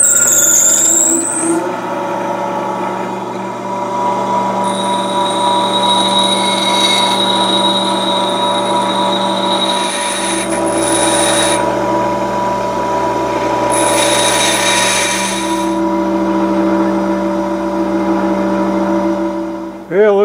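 A high-speed steel lathe tool is ground on a CBN wheel grinder: a steady motor whine runs throughout, with brighter, higher-pitched passes of grinding contact near the middle and again toward the end.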